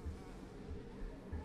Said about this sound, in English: flies buzzing in here